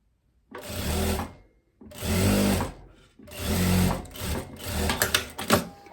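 A sewing machine stitches a sleeve into the armhole of a viscose dress in three loud, steady bursts of rapid whirring, followed by shorter stop-and-start runs.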